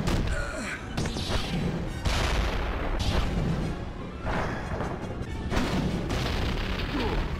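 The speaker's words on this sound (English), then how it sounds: "The action of throwing a boss into the wall with them thuds and the clashes" Combat in Star Wars: The Force Unleashed on PSP, a boss thrown into a wall amid repeated heavy booming thuds and crashing clashes, loud and dense with bursts roughly every second.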